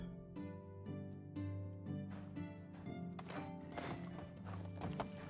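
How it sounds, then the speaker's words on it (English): A horse in the medieval survival game Medieval Dynasty gallops with fast, rhythmic hoofbeats and a whinny over a steady layer of game music, heard without speech. "Let's get on the horse."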